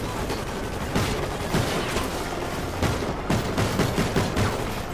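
Rapid bursts of gunfire in the video game Call of Duty: Ghosts, dense repeated shots and volleys layered over one another at a loud, steady level.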